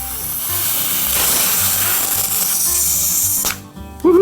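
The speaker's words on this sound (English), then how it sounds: "use the Dremel tool to get rid of some of these seams" A Dremel rotary tool grinds the molded seams off a Umarex Legends Parabellum P.08 CO2 pistol, a loud steady high-pitched whine that runs almost the whole time, dips briefly, then surges back near the end.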